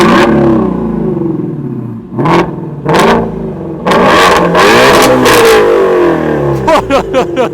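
A Ford Mustang Shelby GT350 V8 with its exhaust open revs hard in repeated loud, deep blips and sustained pulls close by, ending in a quick series of sharp throttle stabs.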